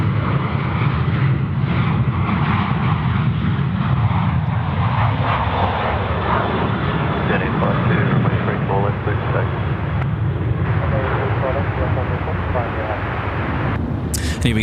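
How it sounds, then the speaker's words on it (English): A Boeing 717 departing Sydney Airport sends a sustained, loud engine roar across the field, with someone talking over the noise throughout. "we are keeping our eye on the Boeing 717, which is due to depart very,"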